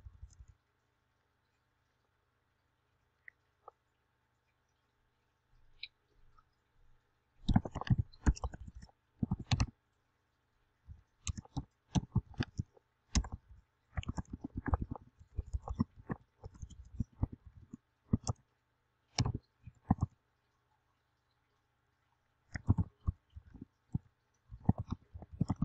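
Keystrokes clatter on a computer keyboard in irregular bursts of rapid clicks separated by quiet pauses, close and crisp, with no talking.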